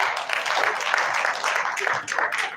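Applause from an audience at a veterinary alumni homecoming and award ceremony, a steady dense wash of clapping lasting the whole stretch with slight swells, moderately loud in a large hall.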